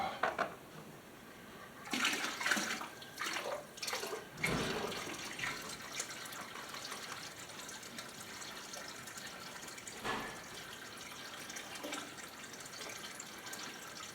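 A bucket of water poured slowly into a 29-gallon fish tank, with splashy bursts of gushing liquid in the first few seconds, then a quieter steady trickle and a brief splash near the end, close by.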